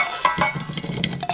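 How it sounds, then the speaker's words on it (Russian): Salad ingredients are tossed together in a large bowl, giving short, irregular clinks and scrapes of a utensil against the bowl over a soft rustle, close and fairly loud, with no voices. "Теперь смешиваем все наши ингредиенты в большой миске"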